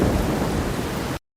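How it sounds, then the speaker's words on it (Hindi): Heavy rain pours in a dense, steady roar mixed with rumbling thunder, loud and close on a stormy night beside a flooding river, then cuts off abruptly after about a second. "एक रात बहुत तेज बारिश हुई, नदी उफान पर, खेत जलमग्न।"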